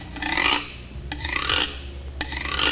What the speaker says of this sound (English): From Latin America comes an instrument that's called a güiro.